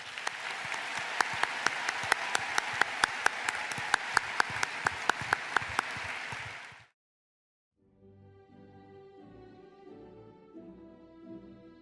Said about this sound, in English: Please join us in giving these graduates a well-deserved round of applause.